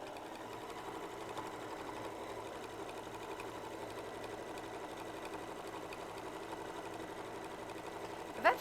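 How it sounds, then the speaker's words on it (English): A 680 sewing machine stitches steadily around a bag, its even mechanical whir running continuously at close range with a brief sharper click near the end. "It actually sews for you, this 680, doesn't it?"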